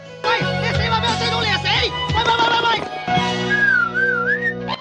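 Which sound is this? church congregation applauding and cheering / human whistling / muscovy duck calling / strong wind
human whistling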